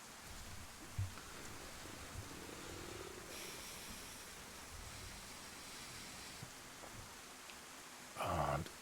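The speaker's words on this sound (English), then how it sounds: "And it's bucketing down." Heavy rain pours down in the survival video game DayZ on the Chernarus map, a steady, soft hiss of downpour running throughout with a few faint thumps and brief clicks mixed in.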